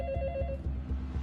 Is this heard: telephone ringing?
yes